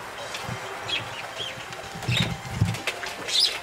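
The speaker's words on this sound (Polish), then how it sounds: "siadają gołębie, widzimy. Grupa kilkudziesięciu gołębi, 30-40 gołębi" Racing pigeons arriving and settling at a loft during a competition flight in Kosakowo, soft cooing and faint wing flutters close by, with people chatting quietly underneath.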